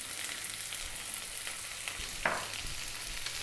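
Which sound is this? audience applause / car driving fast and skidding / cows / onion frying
onion frying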